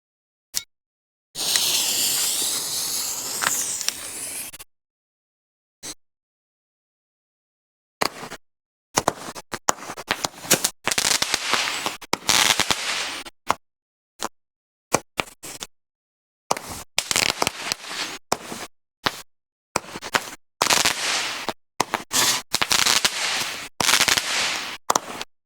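A Red Apple Block Party 36-shot firework cake goes off in bursts of sharp crackling reports and booming shots, with loud clustered volleys separated by silent gaps across the sequence.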